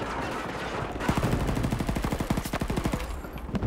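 Rapid automatic gunfire in Battlefield 2042, a long sustained burst of evenly spaced shots that starts about a second in and runs nearly to the end, loud and close with no talking.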